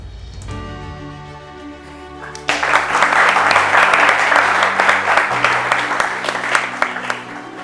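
A high school competition final crowd breaks into loud, sustained applause for the finalists right after a man's announcement, the clapping full and even for several seconds with a voice faintly underneath.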